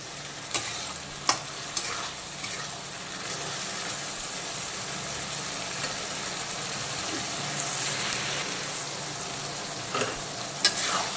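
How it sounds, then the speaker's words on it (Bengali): Coriander paste sautéing in a pan for mutton curry, giving a steady low sizzle and frying hiss throughout with a few sharp scrape or clack sounds from stirring. Nobody speaks. "তো ধনের পেস্টটাকেও আবারও 2-3 মিনিট সময় নিয়ে একটু কষিয়ে নেব"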